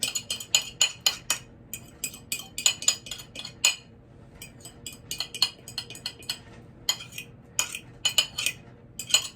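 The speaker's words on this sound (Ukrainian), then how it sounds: "Так, як завжди, я беру посуду." Ceramic plates and dishes with a rose pattern clink and clatter in a home kitchen while baking, a quick run of sharp, close chinks and knocks that come in bursts without talk.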